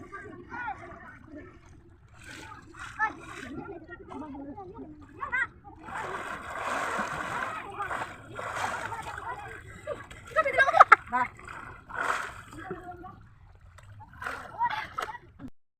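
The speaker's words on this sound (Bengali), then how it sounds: "মাসি চলে গেল জলে আর ওই ঠান্ডাতে ভয় খাচ্ছে। এই দেখো কেমন করে ডুব মারে।" A person takes a cold dip in water at Poush Sankranti, with intermittent splashes and sloshing under near, ongoing talk from several people.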